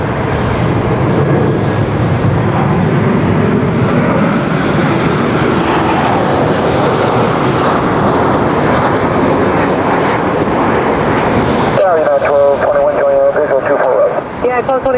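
An airliner's jet engines roar steadily during takeoff at Los Angeles International Airport, a loud, sustained broadband rumble that drops away near the end as a radio voice talks over it.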